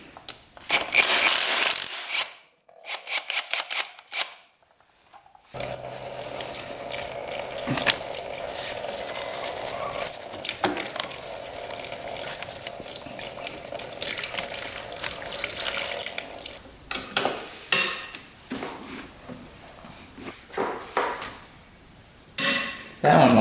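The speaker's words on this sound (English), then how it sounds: "Drain this coolant out of here." Coolant draining from a 400cc dirt bike engine: a steady splashing, trickling pour that runs for a long stretch, with metallic clinks and tool clatter before and after, close by and fairly loud.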